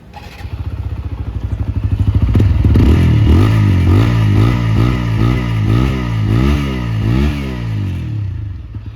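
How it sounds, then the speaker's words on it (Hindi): A 2023 TVS Apache RTR 160 4V motorcycle starts up and its exhaust barks through repeated revs, rising and falling in a rhythmic, loud, close pattern before settling to idle. "तो कुछ इस तरीके का एग्जॉस्ट नोट आपको इस बाइक का सुनने को मिल जाता है।"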